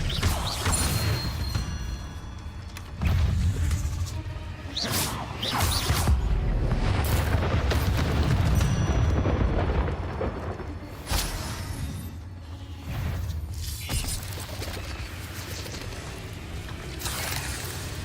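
In the video game Hogwarts Legacy, Incendio and Expelliarmus spells are cast amid a dense stretch of whooshes, crashes and booming impacts.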